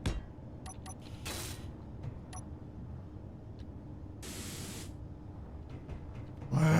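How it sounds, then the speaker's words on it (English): In the Space Engineers game, a paint gun lets out two short, airy spray bursts about three seconds apart over a low, quiet ambient hum, with a few faint clicks in between. "Where did I hear spray painting?"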